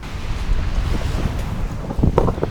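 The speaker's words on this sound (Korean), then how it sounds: "앞으로 파도가 바로 칩니다" Waves break right in front of a beach on the East Sea coast, a continuous rushing surf with gusting wind buffeting the microphone, loud and close, no talking.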